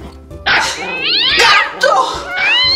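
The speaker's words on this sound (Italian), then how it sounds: "Gatto!" A cat meows loudly and close by in several drawn-out, wavering caterwauls, each rising and falling in pitch, with short gaps between the calls.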